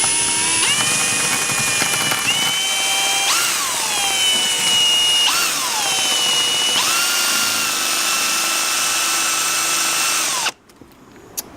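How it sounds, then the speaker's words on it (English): A power drill bores a hole for a screw insert while an air conditioner is installed, whining loudly in several bursts whose pitch sags and recovers under load before cutting out abruptly near the end. "So now I'm going to drill this insert for the screw"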